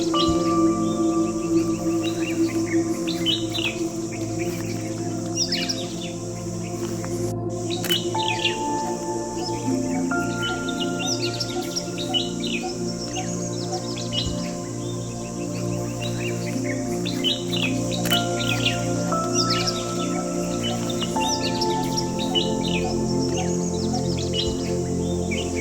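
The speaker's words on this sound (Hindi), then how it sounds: "ये है नीलमणि, अंग्रेजी में ब्लैक नेप्ड मोनार्क, अति सुंदर पक्षियों में से एक।" Black-naped monarchs and other birds chirp throughout in Sinhgad valley, with repeated bright tweets and calls over a steady insect-like hum for about twenty-five seconds and no talking.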